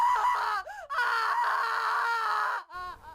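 Eerie drawn-out wails and screams, heard in a horror story, rise and fall in long warbling tones, loud and close. Brief gaps break them up, and a shorter burst follows at the end.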